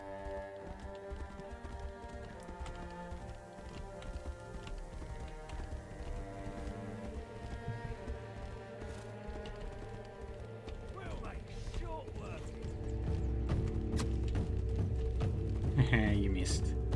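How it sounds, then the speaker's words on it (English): A horse gallops in the fantasy game Tainted Grail: The Fall of Avalon, its hooves clip-clopping in a fast rhythm under game music and someone talking. The hoofbeats grow louder and denser near the end. "Run, horse."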